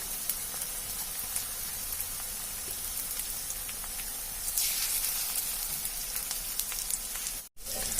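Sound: potato pakoras sizzling as they fry in oil

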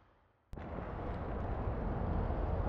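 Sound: car explosion in the video game APB Reloaded

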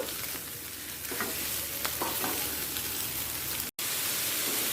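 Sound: frying potatoes and soybean chunks in a pan

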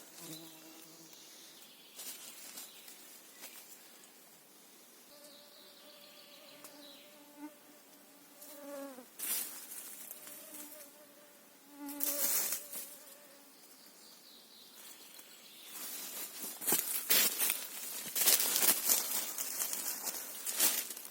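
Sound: mosquitoes buzzing in a forest

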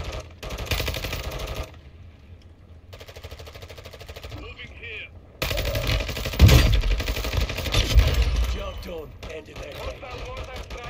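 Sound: grenade launcher firing grenades in Warzone 2 video game

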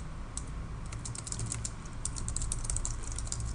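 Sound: typing on a computer keyboard

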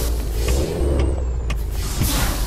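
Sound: truck braking in Euro Truck Simulator 2 video game

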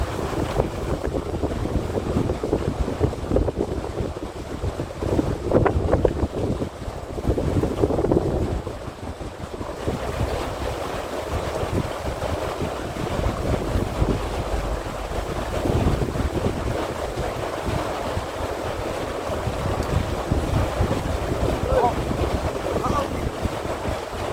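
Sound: strong wind blowing

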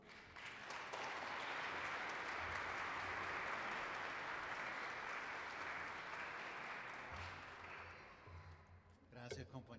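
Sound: applause

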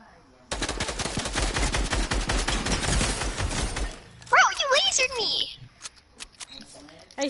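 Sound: gunfire in a video game shootout

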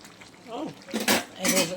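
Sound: whole garlic added to a pan of chicken

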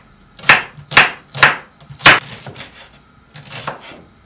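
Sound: dicing vegetables with a knife on a cutting board

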